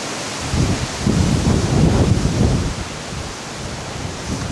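Strong wind buffets an outdoor microphone with loud, rumbling low gusts that swell in the middle and ease off toward the end, with no talk over it.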